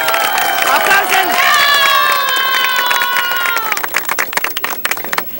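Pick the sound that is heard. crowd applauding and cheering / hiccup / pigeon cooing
crowd applauding and cheering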